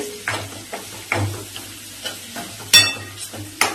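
Masala paste is sautéed in oil in a pan, heard as soft sizzling under a series of brisk spatula scrapes and stirring strokes, about one every half second, with one louder clink.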